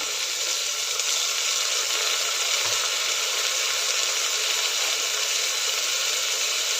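Carrots, beans, garlic and green peas sauté in a pan for mixed vegetable khichdi, giving a loud, steady hiss of sizzling oil that holds evenly the whole time without talk.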